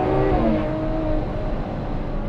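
Ferrari F12 TDF V12 engine revving hard in second gear near 5,000 RPM on an open road, a loud, steady roar with a rising tone that eases slightly toward the end.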